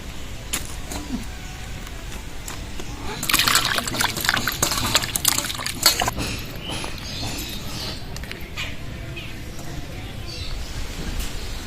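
Running water gushes steadily as fresh singhi fish are washed, a continuous splashing wash with louder bursts midway, close and alone without talk.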